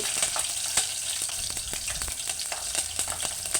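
Mustard seeds, cumin and a green chilli sizzle and pop in hot oil in a pot on a stove, a steady close frying hiss broken by sharp crackles throughout, with no talking.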